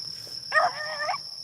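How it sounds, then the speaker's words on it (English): A single short bark from a beagle somewhere off at a distance, heard over a steady high insect drone, during a rabbit hunt. "we heard a bark there"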